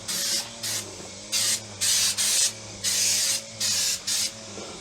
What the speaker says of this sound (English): Bought some olive oil, some cheap olive oil in a can. Spray it real lightly.